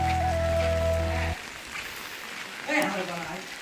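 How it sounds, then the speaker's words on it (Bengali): Heavy rain pours onto a road in a residential neighbourhood as a steady, dense hiss, preceded at the start by a brief droning tone that cuts off abruptly. "প্রচুর বৃষ্টি হচ্ছে, আপনারা দেখলে বুঝতে পারবেন"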